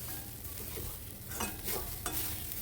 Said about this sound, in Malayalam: നമ്മളിങ്ങനെ ഈ ഇരുമ്പ് ചട്ടിയിലാണ് ഇപ്പോഴും വറുക്കേണ്ടതും പാചകം ചെയ്യേണ്ടതും.